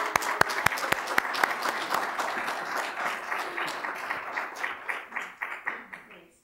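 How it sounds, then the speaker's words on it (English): Audience applause welcomes a speaker to the stage at a business institute event, beginning with a few sharp close claps that swell into a crowd clapping and then thin out into scattered claps. "Please give her a round of applause."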